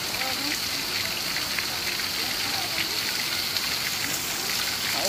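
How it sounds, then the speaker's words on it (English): Steady rushing cold mountain water flows continuously nearby, a dense, even wash of noise with no pauses. "Water coming down off the mountain,"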